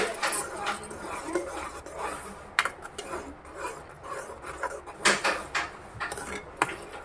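Meal maker curry with garam masala is stirred in a pot, making close, irregular scraping and clinking of a spoon against metal, with a muffled low rumble underneath.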